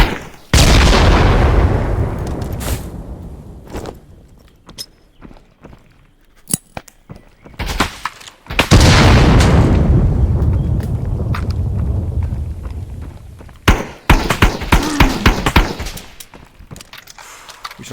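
In the VR shooter game Contractors, two loud explosions go off several seconds apart, each followed by a long decaying roar, with scattered gunshots and footsteps in between and a burst of rapid gunfire near the end.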